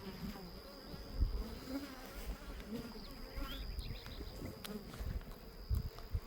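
Honey bees hum steadily around the entrance of an old, long-kept backyard hive, a continuous close buzz with a little faint talk in the background.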